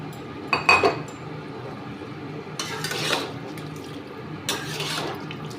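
Water splashes into a pan of paneer sauce to rinse it off a spatula, with clinks of metal on the pan and two bursts of pouring and scraping, close by.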